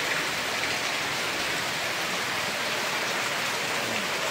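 Steady rain falls outdoors in a village heading toward a river, a dense, even hiss of drops on surfaces that stays constant and close throughout, with no voices.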